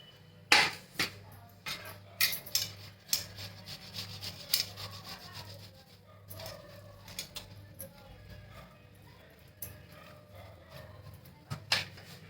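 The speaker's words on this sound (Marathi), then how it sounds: "आता आपण हे बटाटे ना किसून घेऊया" Potatoes grated by hand for sabudana fries, giving close, steady rasping strokes in a repeating rhythm with a few sharper scrapes, and no talking.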